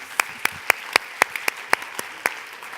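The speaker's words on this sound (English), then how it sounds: "So let's just give them a round of applause." Scattered applause at a nurses and midwives association talk, a handful of sharp, evenly spaced claps from one or two people nearby, loud and distinct against a quiet room.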